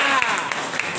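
A classroom of students claps briefly for a presenting group, a dense, fairly close burst of hands filling the short moment.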